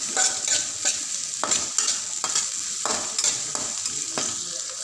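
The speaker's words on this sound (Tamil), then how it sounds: "வெட்டி வச்ச வெங்காயத்தை உள்ளே போட்டுடலாம். நல்லா வதக்கி விட்டுட்டு" Chopped onions sauté in a pan for a carrot and beetroot poriyal, a steady sizzle broken by regular scraping stirs roughly every half second, close and fairly loud, with no voices.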